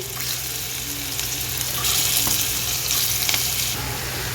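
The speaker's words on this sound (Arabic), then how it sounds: "تمام كده، الزيت سخن، هبدا انزل بالكفته بتاعتي" Kofta dropped into hot oil in a tray, producing a loud, dense, hissing sizzle that swells slightly and holds steady close up, with no talking.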